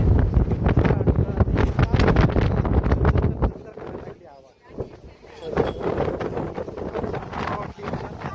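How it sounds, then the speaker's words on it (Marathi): Strong coastal wind buffets the microphone in heavy, roaring gusts near Rameshwaram, loud for the first few seconds, easing briefly, then surging again. "मी बोललेलं तुम्हाला बिलकुल ऐकायला येणार नाहीये, कारण हवा तशी भयंकर हवा आहे."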